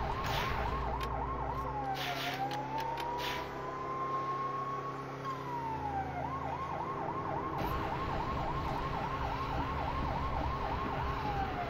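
Police car siren in the Lego City Undercover video game, a loud wailing and yelping siren that shifts between rapid warbles and a slow rising-falling wail, with engine noise beneath.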